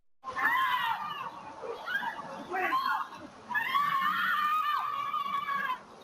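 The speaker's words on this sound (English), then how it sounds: "The moment a Peoria mother screams for her life." A mother walking a baby in a stroller in Peoria screams repeatedly during an attack, shrill wavering cries captured at a distance by a security camera.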